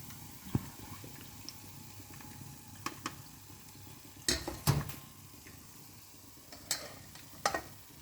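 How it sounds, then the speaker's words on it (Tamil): Onion pakoda frying in hot oil, a soft steady crackle under scattered sharp clinks and scrapes of a utensil against the pan, with a few louder knocks. "நல்லா மொறுமொறுன்னு பொரிச்சிக்கோங்க."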